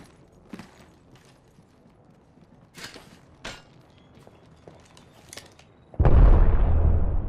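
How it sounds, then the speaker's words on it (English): Scattered clicks and creaks of game action give way to a sudden loud grenade explosion in a video game, a close, broad blast that keeps roaring through the end. "There's a grenade right there."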